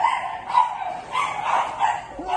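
A dog barks repeatedly in a steady series of sharp yelps, fairly close and loud, with some voices faintly audible in the background.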